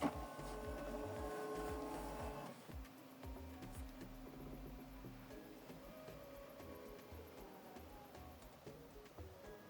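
An Epson WF-2950 printer scans a document with a quiet mechanical hum and rhythmic whirring of the scan carriage, a steady low drone that shifts pitch partway through, close and alone.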